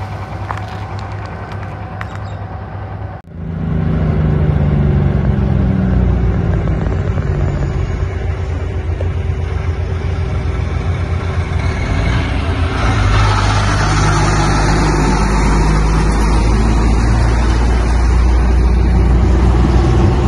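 A truck engine sits quietly at first, then a sudden, loud, continuous rumble takes over and keeps going, its pitch and strength building later on as the vehicle pulls away.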